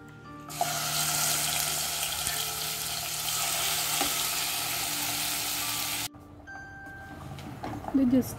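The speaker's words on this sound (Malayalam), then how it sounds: "ഷാലോ ഫ്രൈ ചെയ്യില്ലേ, അങ്ങനെ ഒന്ന് ഫ്രൈ ചെയ്തെടുക്കാൻ വേണ്ടിയിട്ട് ജസ്റ്റ് ഒന്ന് ഒരു ഇത്തിരി എണ്ണ ഒഴിച്ചിട്ട് നമ്മളത് ചെയ്തെടുക്കുകയാണ് ചെയ്യുന്നത്" Masala-coated chicken, about three-quarters of a kilo, shallow frying in a little oil gives a loud, steady close sizzle for about six seconds. The sizzle then cuts off abruptly, leaving quieter kitchen clatter.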